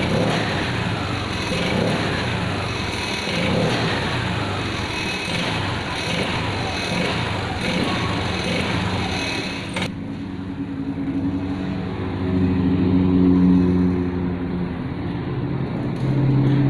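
A Honda scooter engine revs under throttle, its note bogging and hesitating as the gas first opens, loud and close with a continuous droning whir that shifts tone partway through.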